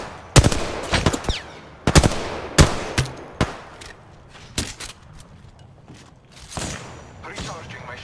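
Gunfire in the Apex Legends battle royale game: loud bursts of automatic fire and sharp single shots scattered across the clip, separated by quieter gaps with faint footsteps and thuds.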